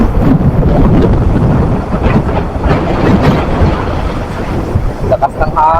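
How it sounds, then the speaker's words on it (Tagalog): Strong typhoon wind roars in heavy, continuous gusts that buffet the microphone with deep rumbling, loud and close throughout. "Lakas ng hangin pa."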